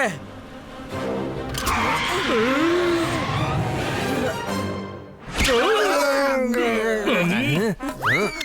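Cartoon vehicle braking hard and skidding, with loud screeching squeals that rise and fall over several seconds, broken by a short gap and mixed with animated voices.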